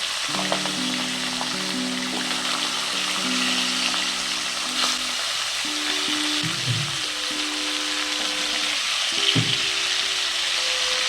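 Hilsa fish and fish heads lightly frying in a pan, with a steady hiss of oil running underneath, a few soft spatters, and intermittent tonal hums layered over the frying.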